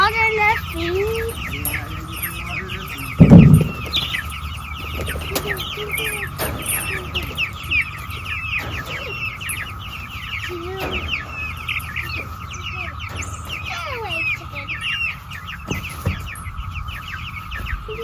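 Chickens clucking and chirping around a farmyard pen, a steady chorus of close, fairly loud calls running throughout, with one sharp louder burst early on and a low background hum.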